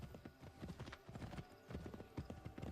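Steady clip-clop of horse hooves trotting along, rhythmic and fairly close, with a faint ambient hum underneath, in the video game Assassin's Creed III.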